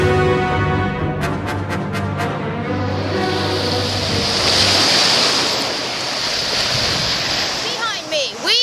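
Surf rolls and washes along a Pacific beach in a broad, steady roar of breaking waves and wind, with a few sharp clicks and a voice heard briefly near the start and end.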